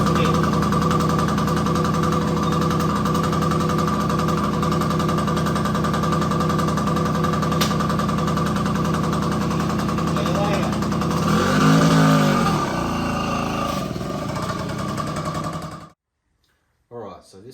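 SST Gemini two-stroke motorcycle started cold on the first kick, then idling with a loud steady buzzing engine note and a brief rev before cutting off.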